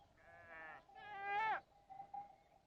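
Goats bleating in the desert near Petra: two close, wavering bleats, the second louder and longer, then a quieter, fainter call fading out.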